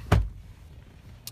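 A truck door shuts with one solid, close thud, followed by a quiet pause and a faint click at the end.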